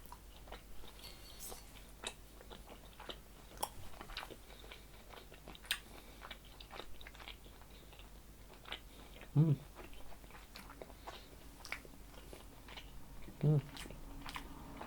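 Close binaural chewing of a salami snack with seaweed, soft wet mastication and occasional crisp crunches and bites recurring irregularly, with two louder bursts near the end.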